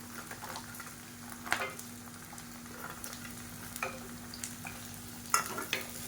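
Pirandai (adamant creeper) and garlic sauté in hot oil for a thokku, a low continuous sizzle with scattered stirring scrapes and spoon clinks against the pan, quiet and close, with no talking.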